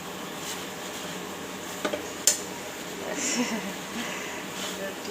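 Chicken meat is stirred in a cooking pot with a utensil, giving soft scraping, a few sharp metallic clinks and a faint background sizzle, close by in a home kitchen.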